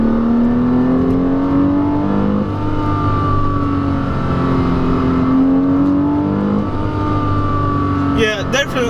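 A 2008 Porsche Boxster engine revs and drops pitch as the driver downshifts into a turn, loud from inside the cabin, with tonal sweeps rising and falling and a brief sharp burst near the end.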